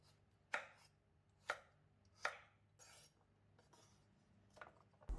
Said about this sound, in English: Cut 150 grams of carrot into half and half again vertically, and then into bite-sized pieces.